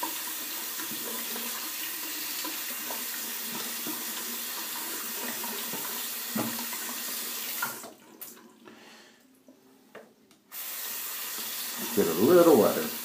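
A tap runs steadily into a sink to wet a shaving brush, a broadband wash of water through most of the clip, briefly dropping away near the end before resuming with some splashing and a voice.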